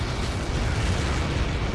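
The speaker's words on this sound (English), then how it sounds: "How many got caught in that explosion?" A broad, rumbling explosion in the jet combat game Ace Combat 7, a dense, steady roar of blast noise filling the whole short moment with no talk.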